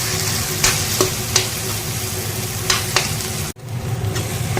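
Onion, tomato and mashed potato fry in a pan for a paneer dish, a close, steady sizzle broken by several sharp scrapes and taps of a stirring spoon and one abrupt clunk near the end, with no talking.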